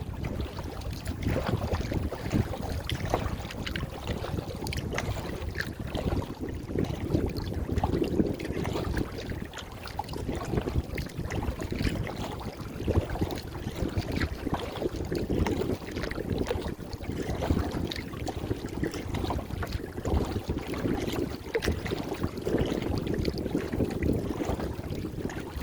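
A kayak rides small waves on the Quinnipiac River, with steady water wash and splashing under heavy wind noise on the microphone, continuous and close.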